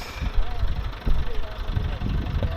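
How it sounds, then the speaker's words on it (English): A turbocharged tractor runs on maize planting day, its engine giving a rough, pulsing low rumble that rises and falls, with a voice talking over it. "this tractor is doing very well for sure. Turbocharged, running very fast"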